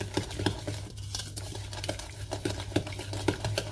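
Spoon stirring a biscuit mixture with a splash of milk in a bowl, a quick irregular run of wet clicks and scrapes against the bowl, close and steady, with no talking.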